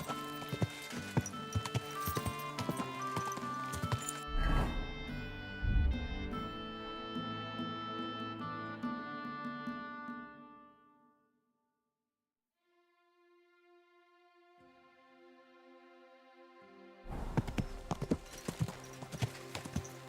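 Rhythmic clip-clop of horse hooves in the video game Kingdom Come: Deliverance II, steady and fairly close, fading to near silence partway through before returning loud at the end.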